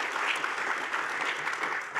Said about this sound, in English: Big round of applause for Phil.